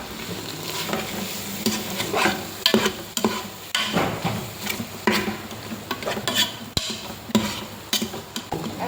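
Cabbage fry with added dal is stirred in a hot pan, with rhythmic scraping and clattering of a spatula over a steady sizzle, close and continuous, no voices.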